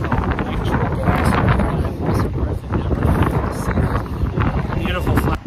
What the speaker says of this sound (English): Very windy out today. It's very windy.